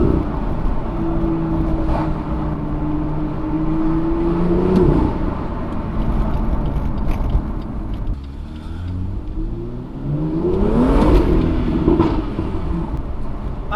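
Stock BMW M2 with the N55 engine cruising through town at about 20 mph, its exhaust rumbling close and steady with two smooth rising pulls between gear changes and no talking.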